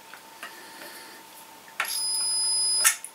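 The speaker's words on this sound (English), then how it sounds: "Yep, it's a very scratchy beep, but it's a beep." A multimeter in continuity mode sounds a scratchy, sustained electronic beep for about a second as probes touch wiring from an old retro light fixture, preceded and ended by faint clicks and handling noise.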